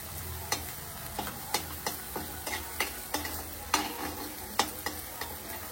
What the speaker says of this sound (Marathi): आपल्याला हा मसाला चांगला परतून द्यायचा आहे